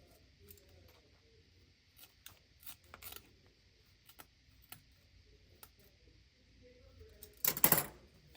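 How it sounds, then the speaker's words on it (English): Scissors snip through gift-wrap ribbon tails to cut them into points, a few short sharp cuts scattered across a quiet room, ending in a louder burst of cutting near the close. "we will cut our tail so we can get those nice points"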